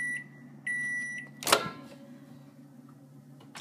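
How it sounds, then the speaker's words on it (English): Microwave oven running with a low steady hum, a few electronic beeps from the keypad early on, then a sharp clack of the door or a button before the hum carries on alone. "put it in the microwave again"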